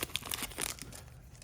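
A football card pack is ripped open close up, giving quick sharp crinkling and tearing bursts of foil wrapper for just over a second, fairly quiet and with no talking.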